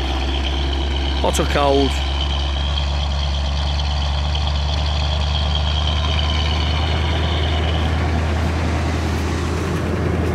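A 1978 Chevrolet Corvette C3 Anniversary Edition with an L82 V8 and three-speed automatic idles with a steady, deep, rumbling drone, close and constant, while someone talks briefly over it.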